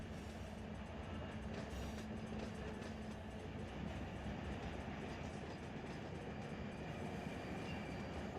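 A freight train rolls on the NS AGS South route in Run 8 Train Simulator, with a loud, continuous rumble of wheels and rail noise that stays steady throughout.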